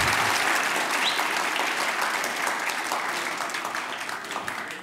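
Steady applause from an audience, a dense wash of many hands clapping that fades slightly toward the end, with no clear voices.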